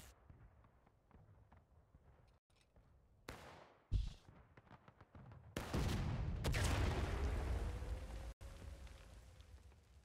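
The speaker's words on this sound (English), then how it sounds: "Shooting a cannon at skirmishers is not useful." Cannon fire and battle noise in the Civil War video game War of Rights at the Pry House map, with sharp booming blasts near 4 and 5.5 seconds followed by sustained loud rumbling gunfire and a sweeping tone, no talk.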